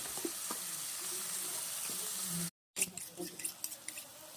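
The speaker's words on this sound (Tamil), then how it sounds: "கருவேப்பிலை, வெங்காயம், பச்சை மிளகாய் எடுத்து போட்டுக்கலாம். நல்லா வதக்கிக்கலாம்." Curry leaves, onion and green chili sautéing in a pan, a steady frying sizzle with occasional stirring scrapes; a short dropout breaks it midway, and the sizzle returns with brighter crackles.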